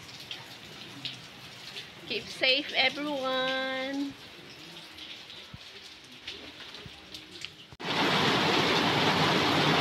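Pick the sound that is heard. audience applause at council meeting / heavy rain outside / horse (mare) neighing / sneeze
heavy rain outside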